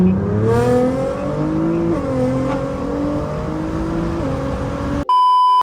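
A 1350-horsepower Nissan GT-R engine revs hard and climbs through rising, stepped pitches, loud and close, cutting to a brief electronic beep at the end.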